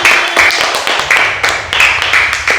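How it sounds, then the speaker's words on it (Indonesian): Classroom participants clap in unison for a presenting group, producing a loud, rhythmic series of sharp claps that repeat steadily with no talk over them. "tepuk tangan buat kelompok 1"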